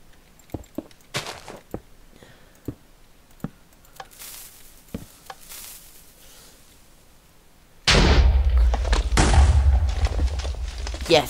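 Minecraft explosions: sharp scattered game pops and thuds first, then a sudden loud, sustained rumbling blast that fills the rest.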